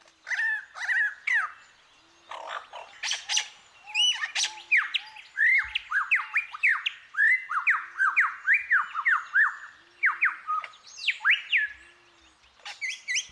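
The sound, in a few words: bird mimicking many calls together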